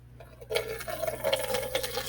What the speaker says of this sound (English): I am pouring in 500 milligrams of water.